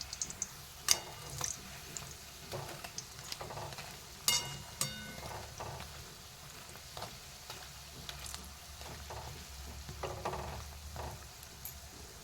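Egg chops deep-frying in hot oil, a steady low sizzle with scattered ticks and scraping clinks of a utensil as the pieces are lifted out.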